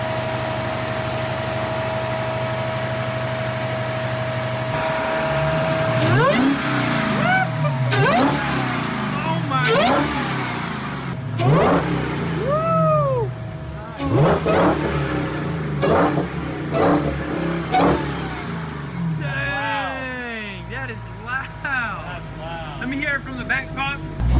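A rebuilt, previously wrecked Dodge Hellcat Redeye V8 is started and revved in a garage, with repeated loud rising and falling revs over a steady idle while people talk nearby.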